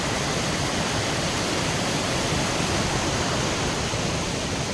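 A mountain stream in a flood- and landslide-hit area rushes in a constant, loud, broadband roar with no pauses and no voices.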